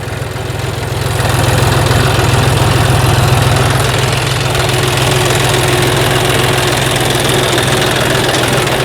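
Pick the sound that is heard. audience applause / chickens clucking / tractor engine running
tractor engine running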